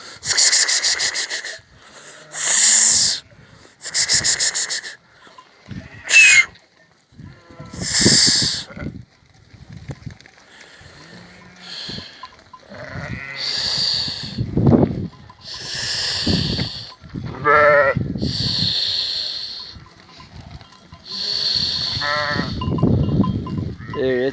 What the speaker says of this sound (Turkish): Koyunlarımız, kuzularımız daha halen içinde. Emiyorlar beraber.